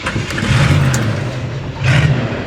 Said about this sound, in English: we're gonna find out if the truck will fire up and get me to the next one